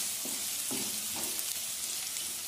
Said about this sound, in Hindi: प्याज को हल्का सा भून लेंगे